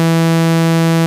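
Init patch on a Sequential Prophet Rev 2 synthesizer holding one steady, buzzy sustained note, loud and close, with no other sound, fading slightly at the very end.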